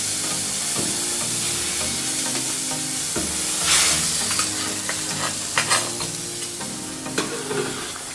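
Curry frying in a pan with steady sizzling and repeated scraping stirring strokes, a few sharper spattering bursts near the end, close and without talk.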